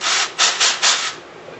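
Four rasping strokes as a large drill bit is twisted by hand in a freshly drilled hole to deburr it for a quadcopter motor and battery mount, loud and close, then fading to quiet.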